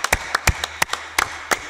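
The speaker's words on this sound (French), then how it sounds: "veuillez applaudir pour les interprètes qui sont en deuil" Sparse hand claps from an assembly at a United Nations environment session, about a dozen distinct claps in loose, uneven rhythm, fairly close and moderately loud.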